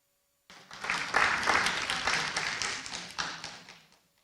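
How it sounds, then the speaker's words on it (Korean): Audience applause greets a panelist being introduced at a Korean water-value and consumer-trust forum, a steady burst of clapping from a seated crowd lasting several seconds before tapering off. "큰 박수 부탁드리겠습니다"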